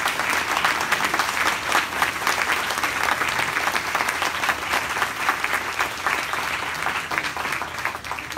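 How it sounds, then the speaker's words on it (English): A lecture audience at a Black History Month talk applauds volunteers from the Truth and Justice Project, with sustained, full-room clapping that stays steady and strong for several seconds. "Let's give them a round of applause."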